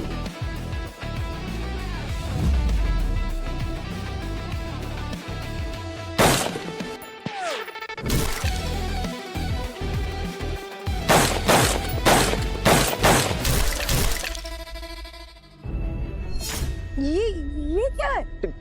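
Gunshots ring out at a shooting range in sharp single cracks and short rapid clusters, loud and close, separated by pauses, with people talking in between.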